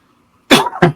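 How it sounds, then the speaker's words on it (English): A person coughs twice, a long harsh cough followed by a shorter one, close and loud after a moment of near silence, from someone with allergies. "I got this cough because of my allergies."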